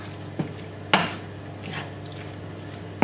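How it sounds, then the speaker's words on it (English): A spoon scrapes and clinks against a pot while a tomato and Maggi seasoning mixture is stirred, giving a few sharp taps between soft swishing strokes. "Just mixing all of that together."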